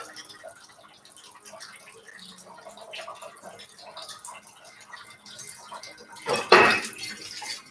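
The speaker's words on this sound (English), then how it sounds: "that's just a faucet." A kitchen faucet runs quietly while dishes are washed. Faint water trickles through most of the stretch, then a louder splash and clatter of dishes comes near the end.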